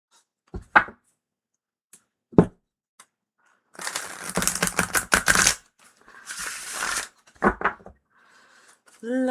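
A deck of tarot cards is shuffled during a live reading, heard as short papery riffles and flicks between brief pauses, with a few isolated taps before them.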